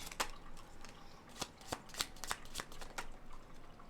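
Tarot cards are shuffled close up, a run of crisp riffling snaps and soft slaps in an uneven rhythm over a quiet background.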